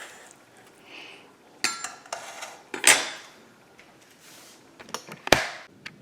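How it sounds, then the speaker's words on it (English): Knife work on raw pork on a board or plate for burgers, with scattered clinks, taps and scraping sounds, a few sharper metallic hits, close and irregular with quiet gaps. "So I will very easily just cut this up."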